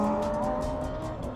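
A Lamborghini Huracan on track brakes hard into a corner, its engine note falling with a rough, pulsing tone over a brief moment.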